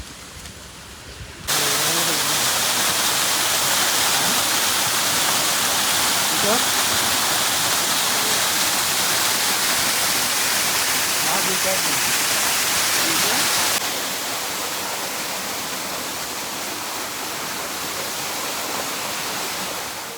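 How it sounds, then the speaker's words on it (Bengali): A waterfall near Tanguar Haor in Sunamganj roars as a loud, steady broadband rush that swells in abruptly and stays constant, easing somewhat toward the end, with faint voices beneath. "তো এখন যাই ঝর্ণার কাছে, ঝর্ণাটা দেখি"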